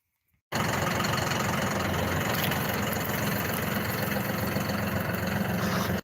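A tractor engine starts abruptly and then idles loudly and steadily, a dense unbroken rumble held close up for several seconds before cutting off.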